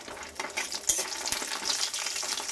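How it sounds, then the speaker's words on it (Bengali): Urad dal bori, ten to twelve pieces, frying in hot mustard oil in a pan, a brisk crackling sizzle with a couple of sharp clicks, close and moderately loud, no voices. "তেলের মধ্যে প্রথমে আমি ভেজে নিচ্ছি বড়ি"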